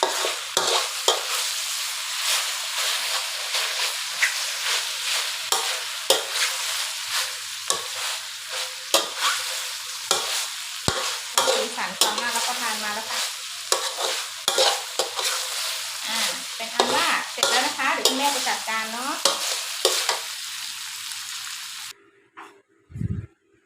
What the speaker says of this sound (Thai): ผัดให้เข้ากันเลยนะคะ